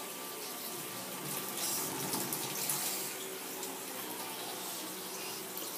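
A tap runs steadily into a sink during dishwashing, a continuous splashing gush with no talking over it.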